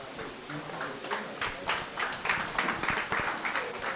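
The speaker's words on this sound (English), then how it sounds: "Please keep clapping, keep clapping." An audience at a memorial lecture claps in a steady, moderately loud patter that swells partway through, with some voices mixed in.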